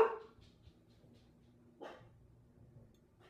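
A dog barks twice, a loud bark at the start and a second one a moment later, somewhat distant in a quiet indoor room.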